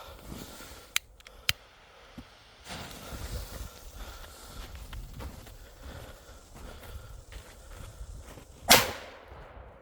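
A sharp, loud C4 firecracker blast near the end, preceded by a couple of faint pops over rustling outdoor background noise.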